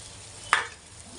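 Besan batter poured onto a hot tawa, with a quiet background hiss and then a single sharp sizzling burst that fades quickly.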